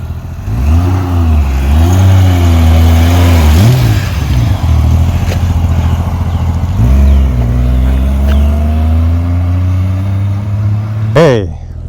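A restored older Honda Goldwing motorcycle pulls away up close, its engine revving and rising in pitch through shifts, dropping and climbing again as it accelerates, with a voice briefly audible over it.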